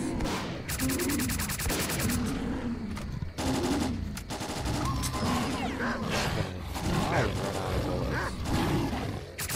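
Rapid automatic gunfire in S.T.A.L.K.E.R.: Clear Sky, loud, dense bursts rattling almost without pause, with brief gaps and clattering impacts and mechanical clicks, while a voice talks over the shooting.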